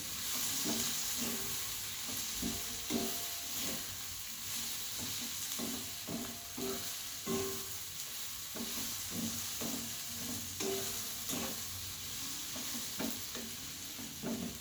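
Potatoes fry with turmeric and spices for lentil dal, a continuous sizzle under rhythmic stirring and scraping strokes in the pan, close up and with no talking.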